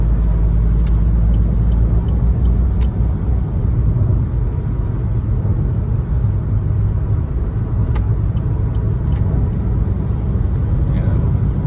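A car cruises along a highway at speed while a truck overtakes, giving a loud, constant road rumble and engine drone throughout.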